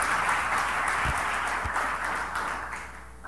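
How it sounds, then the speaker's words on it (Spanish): Church congregation clapping for the Lord during a sermon, a dense even patter of many hands that holds steady and then tapers off toward the end, moderately distant. "Alguien denle un aplauso al Señor."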